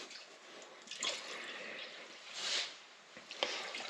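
Water sloshes and splashes in a gold pan as sediment is shaken and washed, a steady wet swirl with a few louder surges, close up and without talk.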